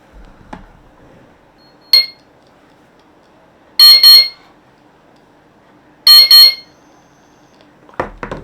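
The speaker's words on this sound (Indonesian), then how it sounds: "Nah, ini dia sirinenya." Short loud electronic siren bursts from a Bardi wireless home alarm kit, each a quick double shriek, sounding twice with long quiet gaps, preceded and followed by faint clicks.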